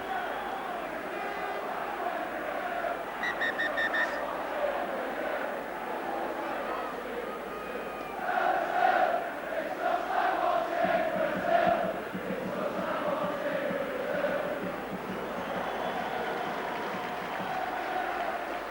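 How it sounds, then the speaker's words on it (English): Rugby crowd at a 2005 Challenge Cup match between St Helens and Wigan applauds a half-back, a broad distant roar of clapping and cheering beneath a commentator's voice. "applause from the fans for their half-back"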